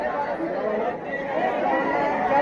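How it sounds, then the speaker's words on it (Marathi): A crowded wholesale and retail fish market at Mumbai CST hums with a steady wash of many overlapping voices, close and continuous, with no single speaker standing out. "आज गर्दी भरपूर आहे बघा."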